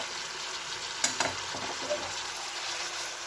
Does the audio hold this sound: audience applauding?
no